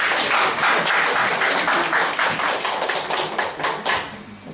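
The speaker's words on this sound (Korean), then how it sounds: "이때쯤 되면 박수가 나오더라고." Faculty at a university teaching-methods lecture on digital media break into applause, a fairly loud, busy clatter of many hands that stays dense throughout and loosens a little at the close.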